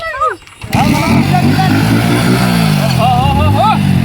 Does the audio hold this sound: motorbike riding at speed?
yes